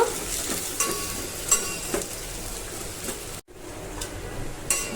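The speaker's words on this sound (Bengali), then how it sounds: "দিয়ে দেব হচ্ছে 2 টুকরো দারুচিনি, তার ভিতরে দিয়ে দেব হচ্ছে পেঁয়াজ। সবগুলো ভেজে নেব।" Onion and two pieces of cinnamon frying in a pan for khichuri, a steady close sizzle with intermittent stirring scrapes and clinks, one brief dropout partway through, no talking.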